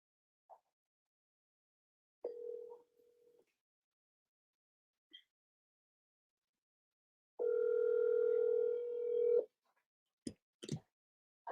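A telephone dial tone sounds while a call is being placed, quiet overall, with a short tone early on and then a steady tone of about two seconds, followed by a few faint clicks.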